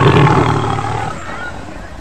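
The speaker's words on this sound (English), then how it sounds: "T for tiger." A tiger's roar, a loud close rumbling growl that starts strong and trails off over about two seconds.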